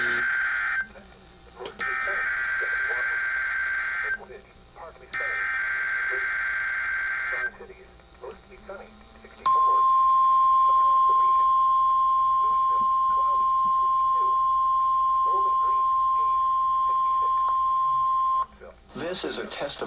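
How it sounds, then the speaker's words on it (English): NOAA Weather Radio weekly test warning alarm, a loud continuous steady tone held for about nine seconds, preceded by repeated bursts of data-like tones with a synthesized announcer voice talking in between. "This is a test of the National Weather Service's NOAA Weather Radio Warning Alarm System."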